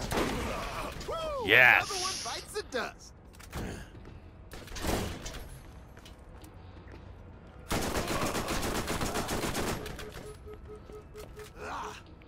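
Bursts of gunfire from Jakobs guns in the Borderlands shooter, sharp shots and a longer rapid volley separated by quieter gaps, with a voice briefly exclaiming between them.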